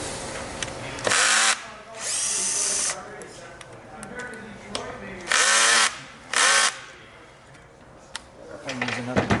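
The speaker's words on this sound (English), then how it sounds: "I'll just go ahead and use a drill." Several short, loud bursts of a power drill whirring as it removes screws, separated by pauses with faint background noise and some handling sounds.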